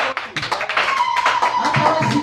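Hands clapping at a church gathering, loud and close, a burst of quick, uneven claps from several people running throughout with no talk over it.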